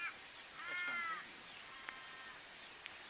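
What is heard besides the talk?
crows calling at a bush camp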